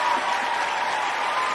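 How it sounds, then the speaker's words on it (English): Hand claps come through a call line as a dense, steady burst of clapping, compressed and slightly tinny, lasting a second and a half without talk. "I was trying to give you some hand claps."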